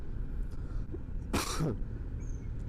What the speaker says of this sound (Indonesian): Aduh, jadi batuk nih